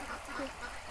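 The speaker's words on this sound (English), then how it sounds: "As you can see, the ducks are having a great time." Ducks quack beside a creek, a quick burst of a couple of nasal calls, moderately close but fairly soft, over a light outdoor background.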